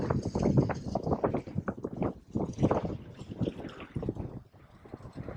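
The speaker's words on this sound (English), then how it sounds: "The wind is too strong." Strong gusty wind buffeting the microphone on a fishing jetty, a loud rumbling roar that surges and fades continuously with no pauses.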